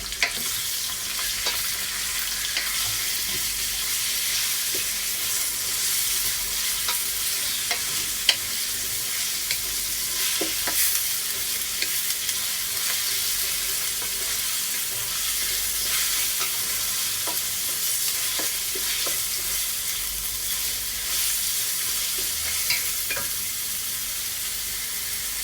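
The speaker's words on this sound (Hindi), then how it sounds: "बीफ कीमा लिया है, वो डालेंगे और कीमे को थोड़ी देर के लिए भूनेंगे" Beef mince frying in a pan, a steady sizzle with scraping stir strokes running throughout at close range, no voices.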